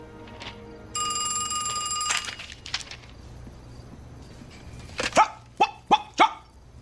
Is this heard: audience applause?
no